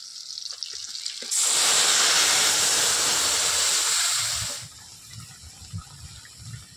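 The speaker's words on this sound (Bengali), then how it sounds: "সব কিছু ভালো করে ভেজে নিয়েছি, এবার মাছের ঝোলটা ঢেলে দেবো।" Rohu fish curry broth pours into a pan of fried black cumin, slit green chillies and tomato. A loud rushing hiss lasts about three seconds, then settles into quieter bubbling and sizzling.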